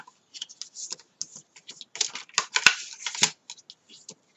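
A bone folder scores fold lines on paper for a sweets box, making a quick series of short, dry scraping strokes, close and fairly quiet against silence.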